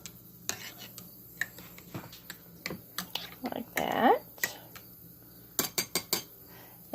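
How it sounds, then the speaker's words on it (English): A knife is pushed around the edge of a canning jar of green beans to release air bubbles, giving soft scrapes and sharp glassy clicks and taps, close and quiet, with brief speech. "to remove the air bubbles, all you do is just stick a knife in the edge here."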